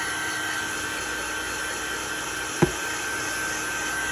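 A dryer blows over sprayed paper scraps in a loud, steady whirring drone that fills the whole stretch. It is broken only by one short click near the end.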